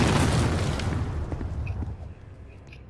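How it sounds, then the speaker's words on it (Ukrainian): A loud, close grenade blast in a Roblox game, a heavy boom opening the clip and then rumbling and crackling as it decays over a few seconds, with scattered small pops near the end. "Дім, там гранату кинули мене"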